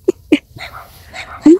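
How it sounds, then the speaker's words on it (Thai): A dog barks outdoors in the morning: two sharp close barks, a softer whimpering yip, then a third longer bark. "หมาเห่า"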